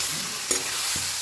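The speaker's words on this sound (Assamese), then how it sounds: "আৰু এতিয়া মাংসখিনি এনেকৈ লৰাই থাকিম" Pork being stirred as it fries in a pan, with a soft steady sizzle and a couple of brief scraping knocks from the utensil, close and fairly quiet.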